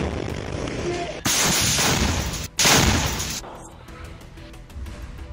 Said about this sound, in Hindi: दो लड़ाके कंधे पर रॉकेट लॉन्चर रखकर सामने खड़े IDF के टैंक पर धड़ाधड़ गोले दागने लगते हैं